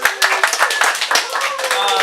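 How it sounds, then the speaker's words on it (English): Attendees at a real estate sales meeting clap for a colleague, a brief patter of hands close by, mixed with voices talking over it. "let's go ahead and give Manny a round of applause for taking 3 listings for the month of October."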